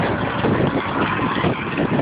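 Strong wind buffeting outdoors in Shenandoah Valley, with traffic rushing past on a nearby road; a loud, continuous broadband roar with no pauses.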